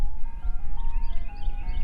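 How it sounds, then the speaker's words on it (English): An ice cream truck's music jingle plays on a back road in Fort Scott, Kansas, a bright tinkling melody running steadily through the clip over low rumbling background noise. "Or the ice cream truck, I mean."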